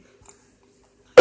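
A single sharp cough bursts out abruptly after near silence, close and loud.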